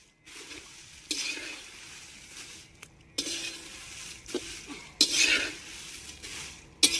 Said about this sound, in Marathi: राहिली थोडी मिरची आता भाजायची.